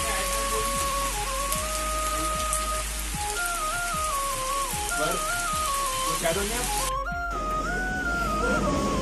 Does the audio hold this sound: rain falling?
yes